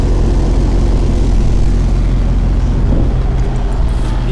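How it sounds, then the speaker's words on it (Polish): A loud, steady mechanical drone of a truck's refrigeration unit set to continuous mode runs without change, a deep engine-like hum filling the whole stretch. "Wbijam chłodnie na pracę ciągłą."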